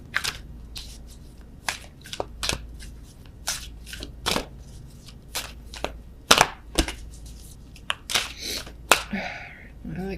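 Oracle cards from a Wisdom of the Oracle deck are shuffled for a tarot reading, giving repeated crisp riffling snaps and slaps at an irregular rhythm, close and moderately loud, with faint low room hum underneath.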